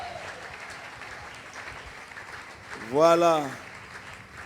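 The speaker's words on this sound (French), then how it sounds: "Nous allons acclamer le Seigneur. Ah, acclame bien, acclame bien." A church congregation claps steadily in praise throughout, a soft continuous patter. A voice briefly rises over the applause near the end.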